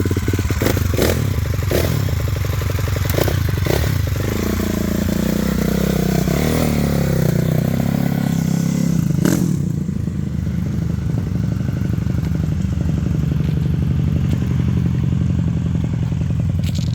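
Cannondale X440 big-bore four-stroke dirt bike engine revving hard and steady, close by, with rough clattering mechanical noise, then easing back to a lower rumbling idle.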